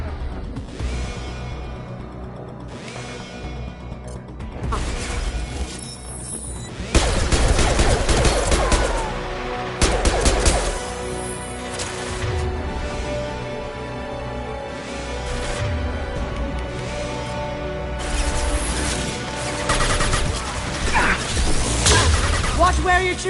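Sustained gunfire in the video game Mass Effect 2 during a firefight, dense volleys and whooshing impacts over a steady combat backdrop, with brief voices.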